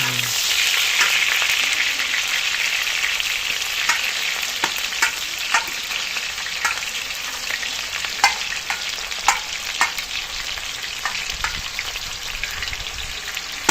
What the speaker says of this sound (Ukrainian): Цибуля зараз швидко піджариться.